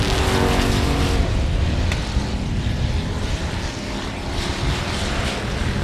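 Stock cars race around South Texas Speedway, engines roaring loud and continuous as the pack thunders past, the broadband drone swelling and easing slightly without pause.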